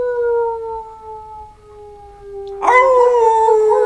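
A person imitates a dog's howl, a long, steady, wavering vocal tone held for several seconds, then rises into a louder, rougher burst near the end, with no other voices.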